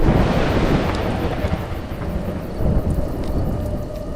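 Heavy rain pours steadily in a storm in A Juggler's Tale while deep rolling thunder rumbles loudly underneath, a dense, continuous wash of sound with no voices.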